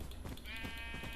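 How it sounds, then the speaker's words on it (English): A sheep in the blocky sandbox game Minecraft gives a short, faint bleat. "Wow, look at how many sheep there are."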